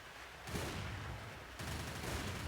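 Continuous turret gunfire in the game SAS3, a dense, steady barrage of rapid shots that kicks in after a brief lull and surges louder again partway through, with no voices.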